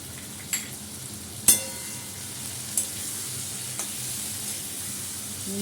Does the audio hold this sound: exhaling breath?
no